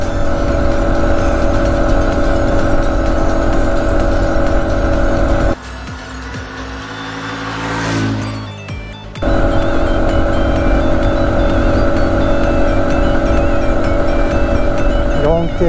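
A Suzuki Birdie 50 motorcycle on a riding trip gives a loud, steady engine drone that drops away for a few seconds in the middle, then returns at full strength.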